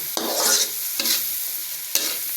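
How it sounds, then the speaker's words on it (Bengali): Bottle gourd curry with turmeric being stirred in a pan, a spoon scraping in three distinct strokes over a steady sizzle, close and clear with no talking. "এখন ভালোভাবে নেড়ে নিতে হবে মিক্স করতে হবে আপনাকে"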